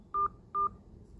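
Two short phone keypad DTMF beeps, evenly spaced and clear, as digits of a PIN are entered on a bank's automated phone line, with nothing else over them.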